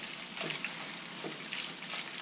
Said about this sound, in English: we're going to give this all a quick saute